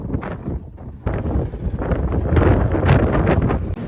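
Strong wind buffets the microphone at a desert camp in Johnson Valley, California, during King of the Hammers, with loud, gusty roaring throughout.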